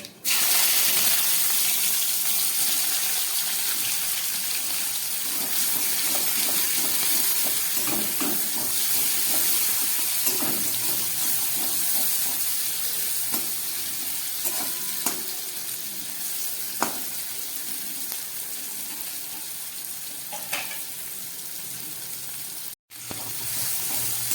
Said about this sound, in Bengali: এই তেলের মধ্যে দিয়ে দিচ্ছি সাদা জিরে ফোড়ন, আর দিয়ে দিচ্ছি একটা ছোট পেঁয়াজ এবং একটা টমেটো।